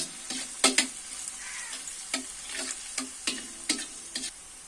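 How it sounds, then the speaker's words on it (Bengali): Spices stir-fried in oil for a snakehead fish curry, a soft continuous sizzle punctuated by repeated sharp spatula scrapes and knocks against the pan at irregular intervals. "যতক্ষণ পর্যন্ত না তেল ছেড়ে আসছে ততক্ষণ পর্যন্ত আমি মশলাগুলো ভালোভাবে কষাতে থাকব"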